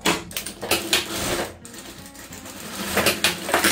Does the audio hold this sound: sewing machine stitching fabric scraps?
yes